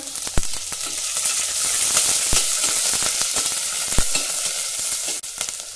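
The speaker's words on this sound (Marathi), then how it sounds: "हे व्यवस्थित परतवून घेऊ।" Crushed ginger, garlic and green chili sauté in hot oil, a steady loud sizzle with occasional sharp pops and stirring clicks throughout, close up and with no talking.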